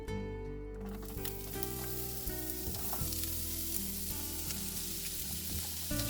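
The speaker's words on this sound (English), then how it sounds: "I'm going to saute our veggies" Onion and mixed vegetables sauté in olive oil in a saucepan, a steady close sizzle with scattered crackles and a few stirring scrapes and clinks, no voices over it.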